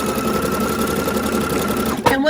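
Home sewing machine running steadily as it stitches elastic onto a fabric scrub cap, a rapid even mechanical whir close up that stops abruptly near the end.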